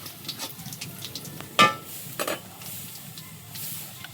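Whole cumin seeds temper in hot oil for a beef trotter nihari cooked over a clay village stove, with a faint background sizzle and a few close stirring scrapes, including one sharp metallic clank.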